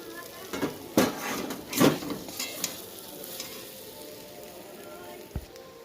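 Fried bamboo shoots and boiled potatoes hit a pan of cooked spice masala with two loud sizzling bursts and clattering stirs, then settle into a soft, low hiss.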